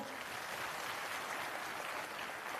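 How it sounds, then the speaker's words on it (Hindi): Loud, steady applause from an audience at a Jan Suraaj digital wing state-level meeting in Patna, a dense continuous wash of many hands clapping with no gaps throughout. "ऐसे युवाओं की हौसला अफजाई के लिए जोरदार तालियां"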